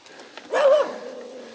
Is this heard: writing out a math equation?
no